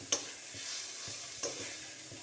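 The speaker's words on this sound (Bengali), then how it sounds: "আর মেথি শাকটা একটু কষাচ্ছি, কেন বলো তো, জলটা একটু মারছি।" Fenugreek greens sautéing in a pan after water is splashed in, a steady hiss with a few sharp stirring clinks spaced apart, close and fairly quiet.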